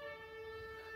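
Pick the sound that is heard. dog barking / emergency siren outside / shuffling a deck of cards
emergency siren outside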